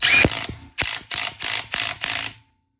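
A DeWalt 20V brushless 1/2-inch impact wrench removing a nut gives about six sharp, loud hammering bursts in quick succession, then stops abruptly into silence.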